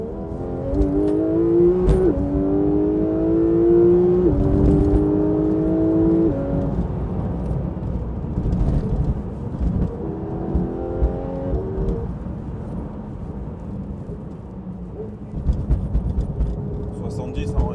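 A sports car engine revs hard, pitch climbing and dropping in repeated surges, loud and close, with voices talking over it throughout.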